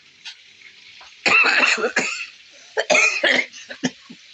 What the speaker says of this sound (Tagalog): Hingala naman ako pag inuubo ako.